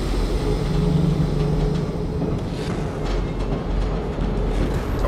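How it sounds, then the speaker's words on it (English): Train in the game Wolfenstein 2, set in Manhattan, starting to move: a steady loud rumble with rolling rail noise and faint clatter that holds throughout without pause. "Train's got power. Let's find the controls and see if it moves."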